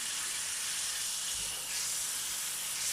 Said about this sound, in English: you really want to sear up the outside edges of this steak